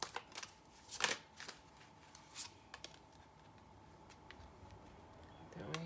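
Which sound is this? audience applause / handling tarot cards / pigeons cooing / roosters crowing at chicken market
handling tarot cards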